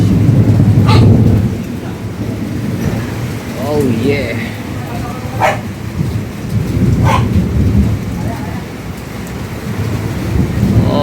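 Thunder rumbles through a heavy nighttime rainstorm, deep rolling booms over a steady rain hiss, with sharper cracks recurring every second or two; people talk in the background and a dog may be faintly heard.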